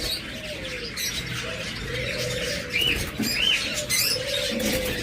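A pair of two-colour lovebirds chirping in short, scattered high calls over a low, steady background hum, fairly close and moderately quiet.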